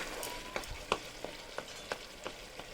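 Spice paste with melted tomato sautés on a high flame, giving a soft, quiet sizzle punctuated by about seven evenly spaced spatula scrapes and taps against the pan.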